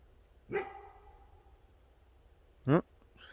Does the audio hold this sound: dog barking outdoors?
yes